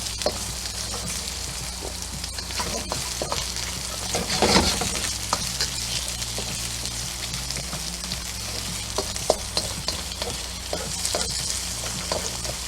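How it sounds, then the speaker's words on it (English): Continuous crackling sizzle of carrots stir-frying in a hot pan, with intermittent utensil scrapes and taps as they are stirred, close by and alone. "We just want to stir fry this for like maybe 2 minutes."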